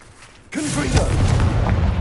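Confringo, a fiery blast spell in the video game Hogwarts Legacy, goes off after a brief quiet lead-in as a sudden loud boom, followed by sustained crackling rumble that holds steady to the end.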